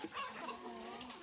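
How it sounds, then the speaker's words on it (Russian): A hen running loose in a backyard clucks in a short, close burst of a few clucks, with faint background noise and no talking. "у меня курица вон, красотка, бегает"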